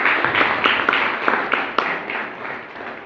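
Scattered applause from an audience at a degree certificate ceremony, irregular claps that swell and then thin out, moderately close, with faint voices beneath.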